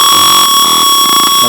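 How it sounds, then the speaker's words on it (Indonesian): A steady, loud electronic alarm tone from an IoT temperature buzzer drones continuously at close range, shrill and unbroken, with faint background murmur beneath it. "maka buzzer akan berbunyi terus-menerus"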